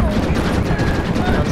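Dense, sustained gunfire from a firefight in the Xbox game Red Dead Redemption during the assault on Fort Mercer, with overlapping shots and blasts rolling loudly and continuously throughout.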